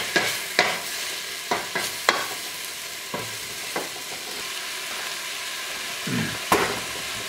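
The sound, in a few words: mushrooms frying and being stirred in a pan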